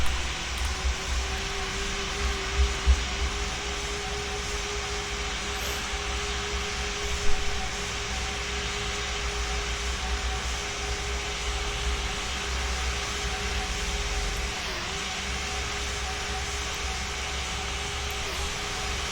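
A steady, even jet engine hum from an airliner during pushback in a pilot training flight simulator game, holding at one level throughout with a few faint clicks near the start.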